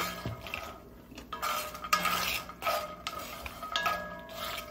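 Cashews frying in a wok, with a metal spatula scraping and clinking against the pan in uneven strokes over a faint sizzle.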